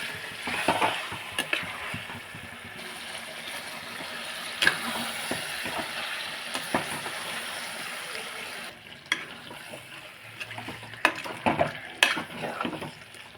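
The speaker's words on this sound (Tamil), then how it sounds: "இது நல்லா ஒரு 10 நிமிஷம் நம்ம நல்லா இப்படி வதக்கி விடலாம்." Chicken curry sautéing in a pan, a steady low sizzle with intermittent scraping and clinks of a spoon stirring, close and moderately loud with no voices.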